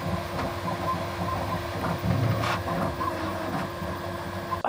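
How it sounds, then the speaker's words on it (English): A Bambu 3D printer running, a steady mechanical hum and whir with rhythmic stepper-motor tones and a few brief clicks, moderately loud and close. "I love the bamboo printer"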